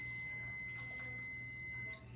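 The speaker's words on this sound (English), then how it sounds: "I had a timer on there for something" A kitchen timer beeps while soup is cooking, a faint, steady high electronic tone sounding continuously under quiet background noise.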